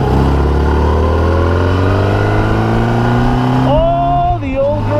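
A 1986 Honda Goldwing four-cylinder motorcycle accelerates onto a highway, its engine note rising steadily and loud close up, with wind rush throughout.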